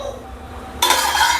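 A lid set onto a cooking pot of chhole masala on a gas stove gives one sudden metallic clink and rattle, close, followed by a short ringing wash of kitchen noise.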